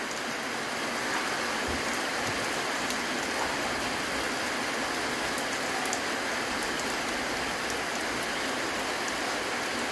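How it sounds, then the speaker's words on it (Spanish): Steady rain pours down, a constant dense hiss of drops hitting surfaces with no voices, even in level from start to finish. "Y el sonido de la lluvia"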